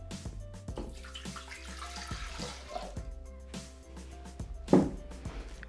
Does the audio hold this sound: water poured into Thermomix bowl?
yes